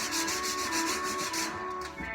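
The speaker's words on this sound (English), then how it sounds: "And I have to do some sanding here first." Sanding on a wooden board, while a top is set up for flattening: a steady, close abrasive rasp with pulsing strokes that eases off near the end, no talk.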